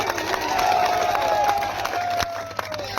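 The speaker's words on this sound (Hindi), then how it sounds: "इनका सभी लोग जोरदार तालियों से स्वागत करेंगे।" A crowd at a political gathering in Chitrakoot cheers and applauds in welcome of a former MP, a steady wash of shouts and claps over a sustained whistle-like tone, fading slightly near the end.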